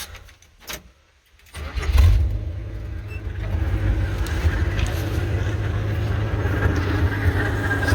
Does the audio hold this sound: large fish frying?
no